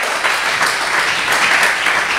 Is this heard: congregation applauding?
yes